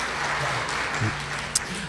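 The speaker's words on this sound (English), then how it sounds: "Give them a round of applause." Audience applause at a Teacher of the Year gala, a moderate continuous patter of clapping with a low murmur of voices and a brief sharp click near the end.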